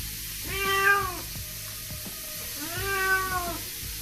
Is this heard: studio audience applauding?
no